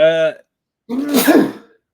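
A single sharp, close sneeze bursts out after a brief voiced sound and a moment of silence, loud and breathy with a quick fade.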